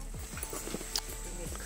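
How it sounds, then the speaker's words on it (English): Horses being readied for a ride near the Caño Cristales river in Colombia, hooves clip-clopping in a few slow, moderately close steps over a faint outdoor background with a person talking nearby. "There's our horses."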